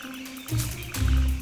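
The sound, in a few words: giant frog croaking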